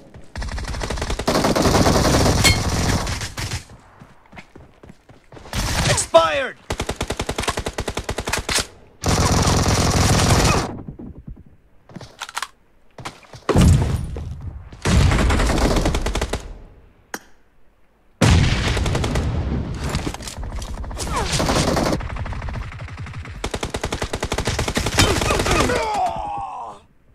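Loud video game gunfire from PUBG, with long sustained automatic bursts broken by short gaps and a few single shots, packed closely together across the whole stretch with no talking.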